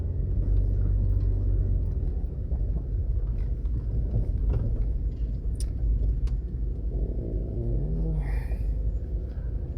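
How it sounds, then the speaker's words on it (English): A four-wheel drive vehicle drives near a bridge construction site in Jamaica, with a steady, loud low engine and road rumble filling the whole stretch. "We're in a four-wheel drive vehicle, so I don't think we'll have a problem getting out."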